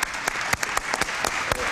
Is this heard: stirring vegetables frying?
no